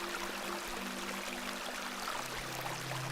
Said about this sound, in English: I do enjoy the charm of a babbling beck